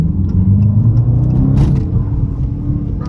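A supercharged Dodge Challenger R/T gives off a deep, steady exhaust rumble while cruising. The low throb is loud and continuous, carries a faint whine, and has no talking over it.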